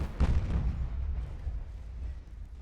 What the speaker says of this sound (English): Oh, those 18-inch guns hurt.